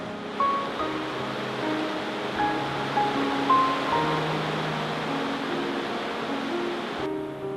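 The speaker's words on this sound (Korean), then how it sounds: "요 옆에서 보니까 물살이 엄청나게 빠르네요" Fast current of a river in the Grand Canyon, heard as a steady broadband rush of flowing water that stays close and fairly loud, with no voices over it.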